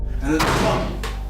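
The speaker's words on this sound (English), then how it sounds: "the door just slammed unexpectedly." An attic door slams shut unexpectedly with a loud, close bang, followed a moment later by a second, softer knock.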